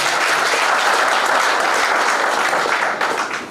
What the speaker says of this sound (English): I really want to ask the house to give you a round of applause.